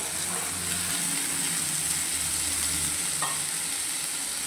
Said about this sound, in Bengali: তারপর এটাকে এভাবে নেড়ে নেব